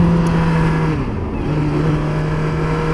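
Motorcycle engine revving during a clutch-up wheelie attempt, a steady loud hum that dips and wavers midway before settling back, with no talking over it.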